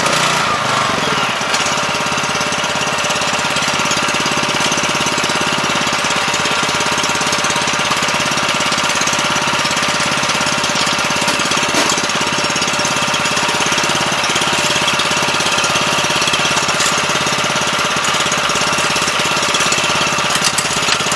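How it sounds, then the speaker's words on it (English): A Kohler engine runs steadily at idle after its carburetor has been cleaned, giving a continuous, loud mechanical drone with a knocking, rattling texture that holds evenly throughout with no talking. "have to let it run and idle a little while to let all that stuff kind of get flowing again"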